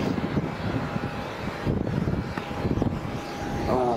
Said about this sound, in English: It's quite a powerful one. It's rattling, you know, like a typical 737